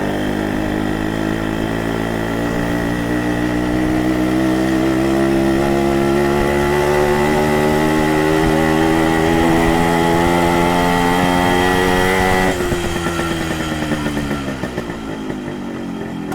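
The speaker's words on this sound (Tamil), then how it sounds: "எக்ஸாஸ்ட் நோட் கேளுங்க." Yamaha RX100 two-stroke motorcycle exhaust revved loudly and close, a sustained high buzzing drone that climbs in pitch then drops back toward idle near the end.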